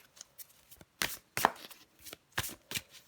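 Tarot cards handled and drawn from a deck: a few brief, soft papery slaps and shuffling rustles spread unevenly, close and quiet, with no talking.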